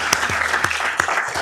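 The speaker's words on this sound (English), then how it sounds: "Would you please join me in giving a round of applause to our public works teams?" City council meeting audience breaks into applause honoring public works teams, a short burst of distinct claps in a modest room.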